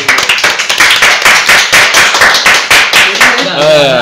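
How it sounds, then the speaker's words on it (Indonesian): A group of people claps hands together in quick, steady, rhythmic beats. The clapping is loud and close, and a voice is heard briefly near the end. "Tepuk tangan dulu. Tepuk tangan."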